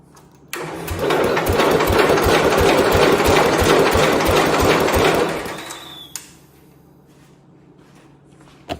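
A Homelite T12 garden tractor engine cranks over for about five seconds in a fast, even rhythmic chug at close range, then stops, leaving a quiet hum and a couple of faint clicks.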